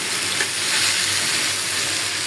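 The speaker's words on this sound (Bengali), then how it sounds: "আর এখানে একটু অল্প করে করলা ভাজি বসিয়ে দিলাম।" Bitter gourd slices fry in a pan with a steady, close sizzle and crackle that holds evenly throughout, with no voices.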